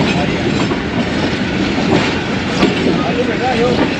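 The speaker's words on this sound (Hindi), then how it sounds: "फिक्स 7 बजे डिपार्चर हो गया 101 अब सुबह रफ्तार का।" The 101UP Subak Raftar train pulling out of Lahore station on a hazy morning makes a loud, continuous rumble and rattle of wagons with faint clickety-clack of wheels, close by and steady throughout.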